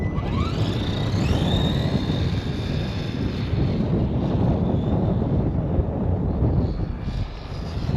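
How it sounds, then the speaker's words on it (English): Wind buffets a microphone outdoors at a skate park, a loud, continuous low rumble throughout, with a faint high whine from a radio-controlled car's motor rising near the start. "It's a little windy today."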